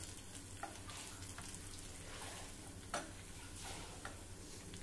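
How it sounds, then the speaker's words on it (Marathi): Garlic and dried red chillies frying in oil, a continuous soft sizzle and crackle with a few faint spoon taps against the pan. "हा लसूण थोडा तांबूस होईपर्यंत आपल्याला परतून घ्यायचा आहे।"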